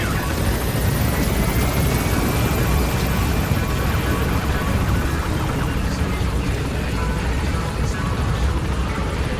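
The Pequod helicopter in Metal Gear Solid V thunders in for an extraction, a dense, constant roar of rotor and engine that stays loud and even from start to finish.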